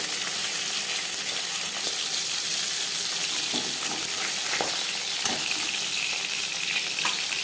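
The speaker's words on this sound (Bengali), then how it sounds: "জ্যান্ত মাছ আমি আর কড়া করে ভাজলাম না" Fresh fish pieces fry in hot oil, making a loud, even sizzle that holds steady throughout, close up, with faint pops and crackles scattered through it.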